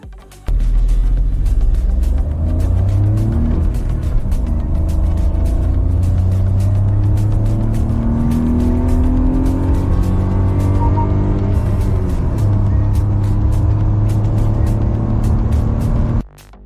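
The new Maruti Suzuki Swift with a manual gearbox accelerating in a drag race, loud engine note climbing and dipping through gear shifts above a constant low road roar, no talking.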